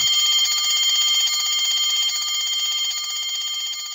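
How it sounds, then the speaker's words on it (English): An electric bell inside a glass jar keeps up a rapid metallic trill that holds steady, then grows slightly fainter toward the end as air is pumped out. "the sound of the bell gets weaker and weaker"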